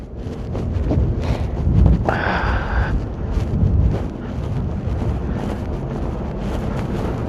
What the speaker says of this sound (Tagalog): so medyo mahangin